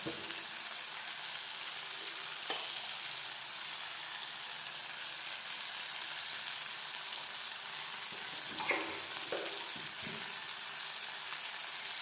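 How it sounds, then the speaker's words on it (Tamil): Raw mango pieces sauté in hot oil for a Tamil mango kuzhambu, giving a steady, close, even sizzle with a couple of faint utensil taps and no talking. "மாங்காய் வந்து எண்ணெயிலேயே சிறிது நேரம் வதங்கட்டும்."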